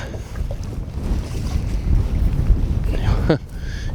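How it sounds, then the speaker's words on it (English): Strong wind buffets a fishing boat on open water, with heavy low rumbling gusts blasting the microphone and a sharp clattering knock near the end; no clear talking. "I'm actually going to use 2 today because the wind is blowing so bad"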